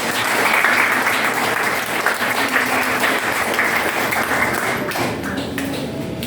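A church congregation at an evening gathering in Taytay claps loudly, dense applause sustained throughout at a steady level before easing slightly near the end.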